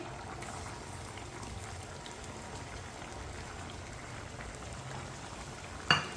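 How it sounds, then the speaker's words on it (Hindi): Water coming to a rolling boil in a cooking pot for aloo baingan, a steady dense bubbling and seething that runs evenly throughout, close and moderate in level, ending with a brief sharp knock. "पानी को बॉयल आ चुका है।"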